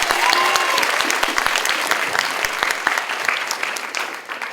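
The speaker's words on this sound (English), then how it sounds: "Everyone, please give a round of applause to Seiji Kanegai." Audience applause at a 2026 HPDU league cup model debate in Japan, dense steady clapping from a crowd that holds strong for several seconds and then thins slightly toward the end.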